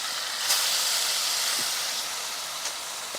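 Flattened shawarma batter sizzles in hot oil in a home kitchen, giving a steady, loud broadband hiss with a faint crackle now and then and no talk.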